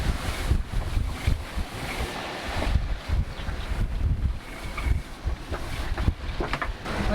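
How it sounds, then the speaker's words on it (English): A sailboat crossing the Gulf of Tadjoura in Djibouti. Strong wind roars and buffets the microphone over sloshing water and hull noise, loud and continuous throughout. "The wind is strong here. Very strong."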